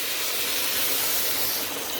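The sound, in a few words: deglazing hot pot with clam juice, sizzling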